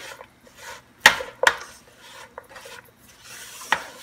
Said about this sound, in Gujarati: તમે એને ફરાવતા જાજો આવી રીતના જ, કે પક્કા સાવ ઓગળી જાય